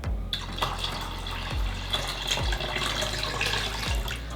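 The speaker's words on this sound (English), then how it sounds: "So now we're going to add in the water." Water pours steadily into an Instant Pot holding soaked chickpeas, a continuous close splashing stream with a few low thumps.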